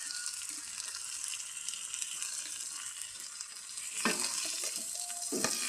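Onion, ginger and garlic frying until brown, a quiet steady sizzle with a few stirring scrapes and clinks toward the end, fairly faint and without talk.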